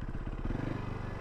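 A Yamaha WR400 enduro motorcycle coasting in wet conditions, its engine giving a low, steady, pulsing rumble close by with some clatter, and no voices over it.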